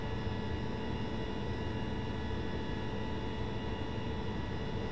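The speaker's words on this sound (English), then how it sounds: "Sounds like I hear that plane coming." Jet engines of an approaching plane in Microsoft Flight Simulator X, a steady broadband roar and hum that stays constant and fairly loud with no voices over it.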